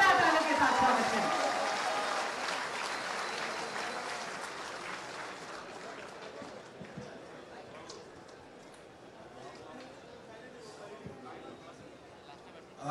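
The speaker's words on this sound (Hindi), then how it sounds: "आपके संबोधन के लिए जोरदार तालियों के साथ स्वागत करें" At a Jharkhand state-level appointment letter distribution ceremony, the crowd loudly applauds to welcome the minister, the clapping strongest at first and then gradually fading to a scattered patter over several seconds.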